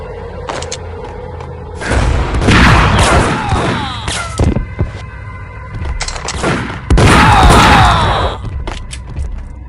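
Gunfire in a Max Payne shootout: two heavy bursts of rapid shots with booming impacts and echoing thuds, loud and close, separated by scattered single shots and clatter.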